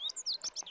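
A bunting spotted on a bird-watching outing gives a quick run of high, thin chirps, about five short notes in close succession, fairly clear and unaccompanied.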